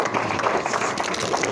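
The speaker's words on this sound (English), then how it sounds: "Huge round of applause for people still at the front" Applause fills a room at a property investment club tax debate, a steady wash of many hands clapping at moderate volume throughout.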